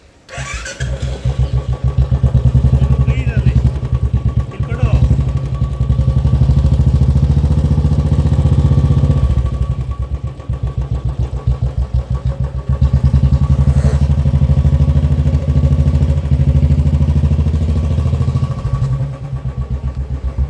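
A motorcycle engine starts up and runs loud and close, its steady idle throbbing for about twenty seconds with brief dips and revs, with no talking.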